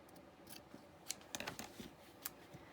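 Scissors snip through paper while a junk journal is being made, with several quiet, close, crisp cuts in an irregular rhythm.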